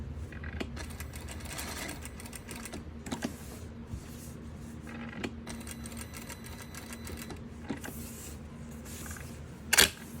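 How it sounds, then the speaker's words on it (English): A sewing machine stitches a tote bag, sewing a reinforcing box with an X across it, a steady close mechanical whir and hum with occasional clicks and a sharp brief clack near the end. "I'm trying to sew in a sloppy fashion, trying to sew a box with an X across the middle for that added stability."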